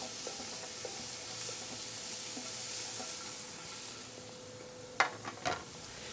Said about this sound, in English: As you can hear the sear.